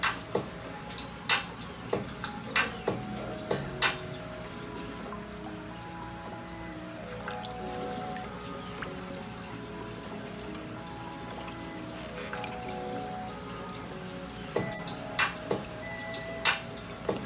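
Water trickles and drips steadily while a fish tank fills indoors, with irregular clusters of small splashy ticks over a constant low watery wash and no talking.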